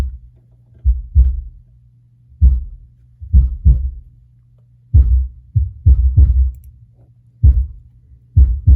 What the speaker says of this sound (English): you really got to throw a gate on the kicks to clean those kicks up